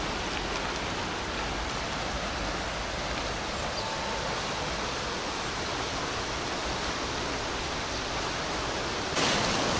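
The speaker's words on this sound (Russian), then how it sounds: "здесь уже идет вот такой очумевший просто поток воды" The Salgir river rushes in a raging flood after the Maly Salgir and Salgir join, overflowing its banks near the Simferopol reservoir. The water makes a constant, dense, close roar with no break and no voices.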